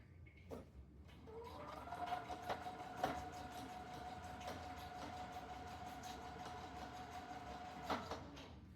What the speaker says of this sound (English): I'm just going to sew all the way around it, leaving an opening.